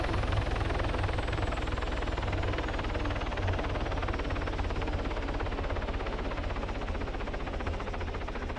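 An aircraft in the video game Arma 3 sets down close by, its loud, steady rotor-like roar holding constant throughout with no voices.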